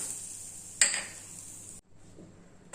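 A steady sizzle of coconut frying in a pan with asafoetida for sambar, with a sharp clink of a utensil against the pan near the start.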